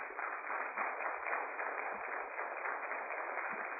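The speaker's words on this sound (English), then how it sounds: "at church, clap it up" Church congregation applauding a pastor celebrating 30 years in ministry, a steady dense wash of clapping that holds evenly throughout, band-limited and muffled.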